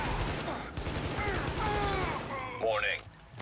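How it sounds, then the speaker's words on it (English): Gunfire from an FAL rifle and a shotgun rings out in the shooter game The Division, bursts of shots over game sounds and a rising electronic tone, fairly quiet overall. "this stupid FAL is this inaccurate. Why does it have that god-awful kick?"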